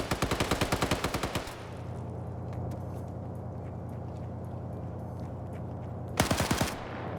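Machine gun fire in a Cold War-era PvP video game match: a rapid burst of evenly spaced shots, a quieter stretch of low rumble with faint distant pops, then a second short rapid burst.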